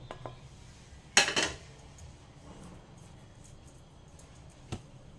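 Roasted gram flour is mixed into a crumbled jaggery filling for sesame jaggery flatbread, soft close scraping and stirring with a couple of sharp spoon-on-bowl clinks, quiet and without talking.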